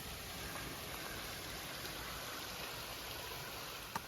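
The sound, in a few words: trickling waterfall on the way to Lion's Head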